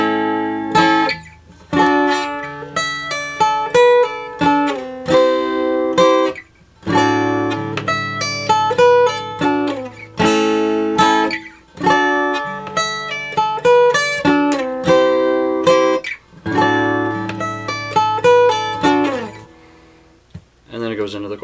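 Guitar plays a riff alone, a clean repeating pattern of picked notes and chords phrased in several rhythmic cycles with short gaps, near and clear.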